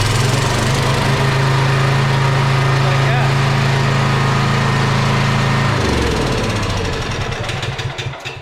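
Generator engine running on fresh gasoline after a carburetor rebuild, a loud, close, steady mechanical hum that drops in pitch and sputters down near the end.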